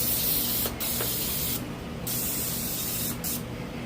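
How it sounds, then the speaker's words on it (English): Aerosol can of cooking oil sprayed onto a bicycle tire in sustained hissing bursts, close and steady, broken by two short pauses. "I'm gonna go ahead and spray some more of that cooking oil on here."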